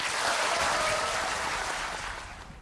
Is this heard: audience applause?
yes